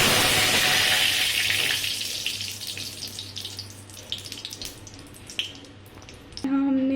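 Mustard seeds and curry leaves hit hot oil while making sabudana khichdi, giving a loud hissing sizzle that gradually settles into softer crackling and popping, then a short tonal sound at the very end.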